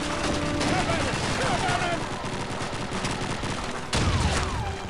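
Sustained automatic gunfire from the Call of Duty 2 video game, dense overlapping bursts filling the whole stretch, loud and close, with a fresh volley starting near the end.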